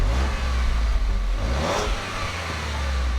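A 2016 Lincoln MKX's 2.7-liter twin-turbo V6 accelerates with a steady, loud low engine drone and rising rumble heard from inside the car, without speech.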